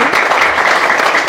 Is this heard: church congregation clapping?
yes